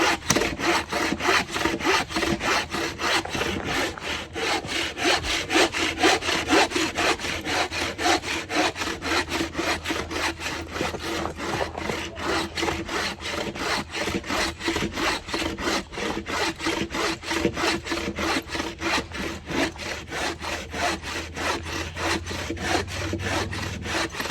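A bow saw cuts through wood with steady back-and-forth strokes, a close, even rasping rhythm that continues without pause for over twenty seconds.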